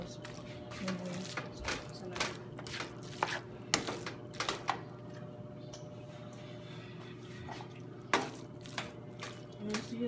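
Shrimp and noodles for a curry shrimp pasta are stirred together in a pan, giving scattered soft clicks and wet squishing scrapes over a steady low background hum.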